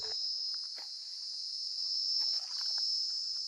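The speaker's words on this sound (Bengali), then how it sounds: "একটা আলাদা রকমের ঝিঝি পোকার আওয়াজ" Crickets trill in a continuous high, piercing drone in Similipal forest at night, loud and close, with faint scattered rustles and distant sounds beneath.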